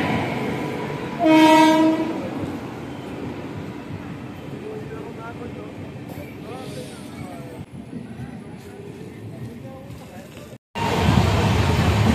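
A Howrah intercity train pulls into Bandel station; a loud horn blast sounds near the start, followed by the steady rumble and clatter of the train, with faint voices in the background.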